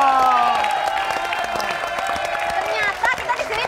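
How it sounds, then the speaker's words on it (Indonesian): A studio audience on an Indonesian TV show applauds and cheers, with dense clapping and crowd noise heard under voices and background music. "Tepuk tangan dong."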